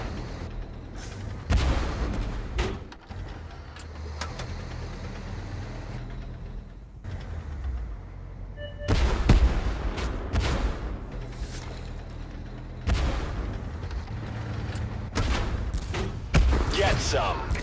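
Artillery bombardment in the tank game Tank Force, with heavy booming shell blasts and gunfire landing in bursts over a low engine rumble, loud and fairly close, several volleys spread across the span.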